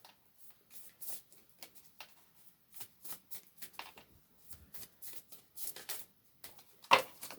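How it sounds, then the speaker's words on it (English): A deck of cards being riffle-shuffled in several quick bursts, each a crisp flurry of flapping, ending with one sharper snap; no talking. "3 more shuffles after this, and then we're just going to go off these 2 cards."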